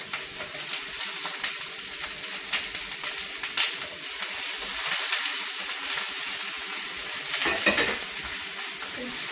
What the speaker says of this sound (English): So then we're just going to add the tomatoes in.